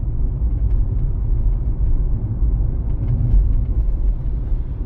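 A car drives along a driving exam route, a steady low engine rumble and road noise heard from inside the cabin, continuous and moderately loud with no talking.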